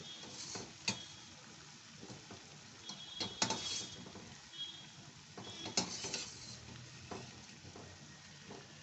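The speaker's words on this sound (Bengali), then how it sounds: "এরকম একটু গোল্ডেন করে ভেজে নেবো আর কি" Oil sizzles steadily as urad dal batter fritters (biulir daler bora) fry to golden for an old-fashioned Bengali syrup-soaked sweet, with occasional stirring scrapes and clinks of a spatula against the pan, no voices.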